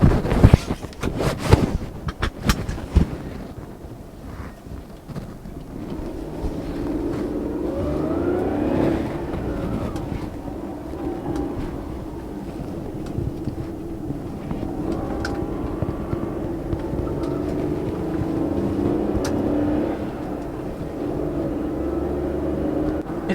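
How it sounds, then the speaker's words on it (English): A light Perodua Viva with a five-speed manual gearbox is driven on a test drive, a steady engine and road drone with heavy wind buffeting on the microphone throughout. "Okay, let's take this car for a test drive."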